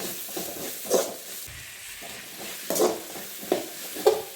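A spoon stirs chicken curry masala with onions as it fries in a pan. A steady soft sizzle runs throughout, with scraping stirs clattering against the pan at irregular intervals, close up.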